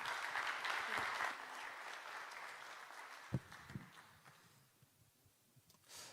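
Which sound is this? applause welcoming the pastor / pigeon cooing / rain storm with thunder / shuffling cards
applause welcoming the pastor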